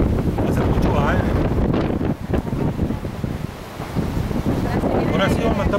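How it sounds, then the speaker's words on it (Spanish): A strong seaside wind buffets the microphone in a loud, unbroken rush, easing briefly for a moment, with waves behind and voices speaking over the gusts. "Hace mucho aire."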